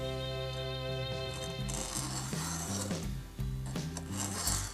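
A hand file rasps across a chainsaw chain in repeated short strokes, a gritty scraping rhythm close to the microphone over a steady background hum.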